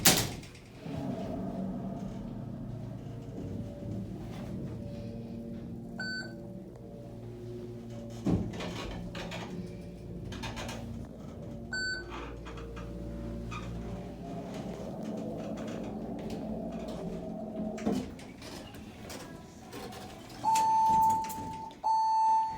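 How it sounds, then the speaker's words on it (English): A Montgomery hydraulic elevator, modernized by General, at Tysons Corner Center rumbles and clunks as its door slides shut with a thud, with faint beeps along the way and a loud electronic chime near the end. "Watch the door slam."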